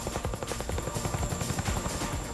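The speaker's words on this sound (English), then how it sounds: "We talk about the Chinook being a tandem rotor helicopter" Chinook tandem-rotor heavy-lift helicopter, a steady loud rhythmic rotor thumping with an engine whine over it, close and continuous with no talk.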